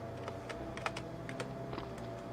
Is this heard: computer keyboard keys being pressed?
yes